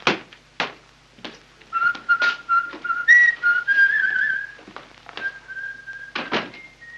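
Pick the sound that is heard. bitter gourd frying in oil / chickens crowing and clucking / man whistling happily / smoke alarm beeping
man whistling happily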